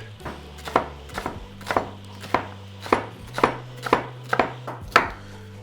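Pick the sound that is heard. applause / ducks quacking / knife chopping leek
knife chopping leek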